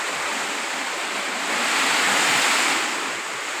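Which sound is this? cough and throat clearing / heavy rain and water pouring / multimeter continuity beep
heavy rain and water pouring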